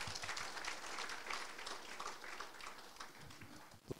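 Steady applause from a seated audience at a health talk on heart care, a dense continuous patter of many hands clapping at even loudness for about four seconds, with no voices over it.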